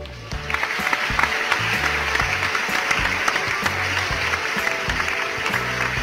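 A dense burst of clapping from many hands runs steadily for about six seconds, laid over background music with a thumping bass line.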